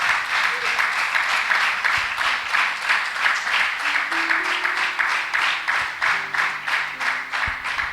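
Congregation applause during a church sermon, a sustained wash of clapping with a rhythmic pulse, joined by sustained instrumental or voiced tones in the background.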